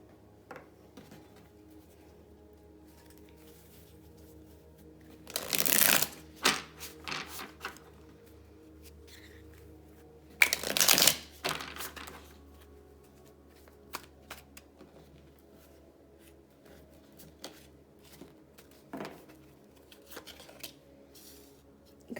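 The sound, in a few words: shuffling tarot cards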